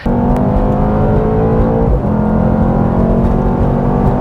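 A Mercedes C63s AMG with a twin-turbo V8 sounds loud and close, a steady, full-throated engine drone with a brief dip midway before the roar picks back up.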